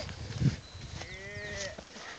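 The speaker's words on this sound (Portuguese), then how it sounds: "Deixa a vaca enrabar pelo menos uma vez." A cow in a pasture gives a short, low moo close by, and faint rural background noise follows it.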